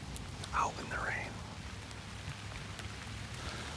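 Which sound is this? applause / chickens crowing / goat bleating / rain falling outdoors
rain falling outdoors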